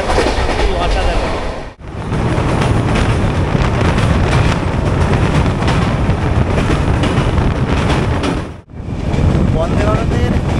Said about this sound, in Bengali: এখন পাঁশকুড়া ছাড়াচ্ছি, মানে ট্রেন যা গতিতে টানছে সত্যি অসাধারণ